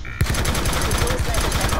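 Sentry gun in Call of Duty: Black Ops 4 on the Icebreaker map during Domination, a fast, even burst of gunfire beginning after a short pause and rattling loudly to the end.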